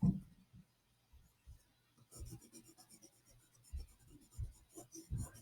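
Faint, intermittent scratching of a pen laying ink strokes on paper during a pen-and-ink portrait with gray wash, with soft taps and quiet pauses between strokes.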